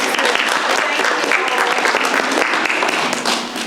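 An audience at a library appreciation event applauds library staff, a dense burst of clapping that stays loud and steady, then tapers slightly at the end.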